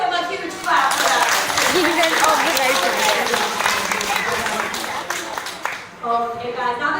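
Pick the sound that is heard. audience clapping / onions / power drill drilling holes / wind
audience clapping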